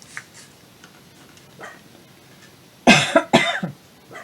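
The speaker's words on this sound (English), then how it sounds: "I'm coughing, the dog's barking," Two or three harsh, close coughs burst out in quick succession after a few quiet seconds of faint background sounds.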